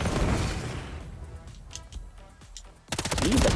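Light machine gun fire in a video game comes as a sustained, loud rattling burst at the start. Quieter scattered shots and clatter follow before another dense, loud burst of automatic fire erupts at the end.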